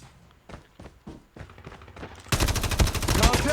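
Gunfire in Call of Duty Mobile: scattered distant shots and thuds at first, then a sudden loud, rapid automatic burst that continues to the end.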